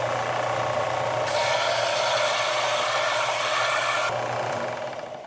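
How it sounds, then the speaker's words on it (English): An angle grinder grinding metal off near a castle nut, a loud, steady, harsh whir running continuously for several seconds, up close and alone, easing off slightly at the end. "And then we're just going to grind it off."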